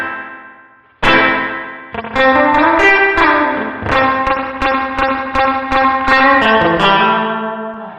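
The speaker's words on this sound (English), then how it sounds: "we have a proper spring reverb within the Helix" Electric guitar chords played through the spring reverb of a Line 6 Helix guitar processor, loud and ringing with a splashy, drippy spring tail that hangs after each strum.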